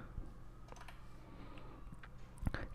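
Code being typed on a computer keyboard for a Python email script, faint scattered keystrokes and clicks at close range over a low background hum.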